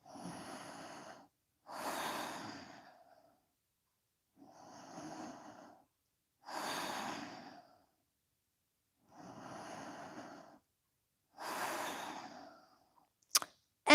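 Slow, deep breathing while holding a seated balancing pose, close and clear, with about six evenly spaced breaths alternating inhale and exhale, quiet pauses between, and a couple of sharp clicks at the end.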